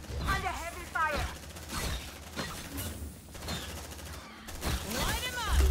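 Bursts of gunfire from the video game Aliens: Dark Descent, rapid shots crackling in short volleys under frequent voices calling out during combat.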